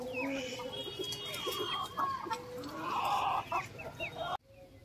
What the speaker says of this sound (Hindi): सब्जियां खा रही हैं हमारी मुर्गी,